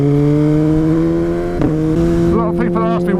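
A motorcycle fitted with a twin exhaust and an extra mid-pipe idles with a deep steady drone, then blips the throttle in a few quick revs near the end, loud and close.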